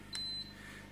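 A Pioneer 9000 BTU 15 SEER 110-volt mini split air conditioner, powered by a Yamaha generator, answers its remote with a single short, thin electronic beep over a low steady hum.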